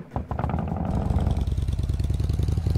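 Motorcycle engine idling and revving in a Roblox game, a steady loud low putter with rapid rhythmic pulses close up, no talk over it.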